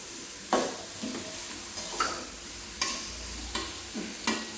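Vegetables for fried rice stir-fried in a hot pan, a steady sizzle broken by regular scraping stirs about once a second, close and loud with no talking.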